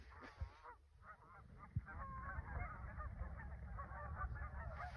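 A flock of waterfowl, tagged as geese, honks and calls in a loud continuous racket outdoors, overlapping cries building and persisting throughout.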